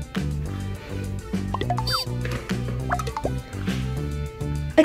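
A heavier toy cube dropped into water during a sink-or-float experiment for kids makes a plop and small splashes, with dripping and liquid sounds over a steady low musical background.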